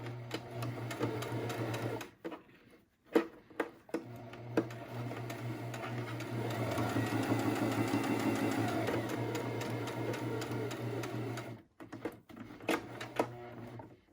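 A sewing machine stitches a fabric face mask with a filter pocket, its rapid mechanical whirr running in long steady stretches broken by short pauses and a few isolated clicks as the fabric is pivoted.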